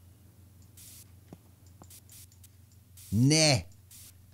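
In Internet Cafe Simulator 2, a short hissing spray bursts out near the end, loud and about half a second long, following a few faint clicks and a brief spoken word.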